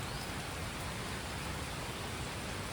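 Heavy monsoon rain falls over a hillside village, a dense, steady, loud hiss that fills the whole stretch without any break or voices.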